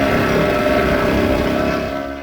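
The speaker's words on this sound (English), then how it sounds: "I'm four-stroking quite a lot." A vintage Diesella 112 motorized bike engine running rough and four-stroking from over-fueling, a loud steady buzzing drone with a slight fade at the end.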